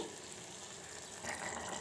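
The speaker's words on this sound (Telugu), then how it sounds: "కొద్దిగా వాటర్ వేసేసుకోవాలి వాటర్ వేసేసుకొని" Water pours into a cooking pan with a steady splashing, a soft continuous pour that grows slightly louder near the end, with no talking.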